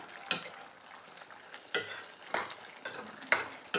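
A spoon stirs chicken curry with banana flower in a pan: a handful of sharp scraping strokes arrive every second or so over a low, steady frying sizzle, close by and with no voices.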